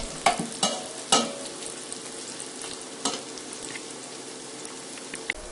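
Rice frying with dried shrimp skin in a pot over medium to high heat for Haitian black rice, a soft steady sizzle broken by a few sharp stirring scrapes and clicks close by.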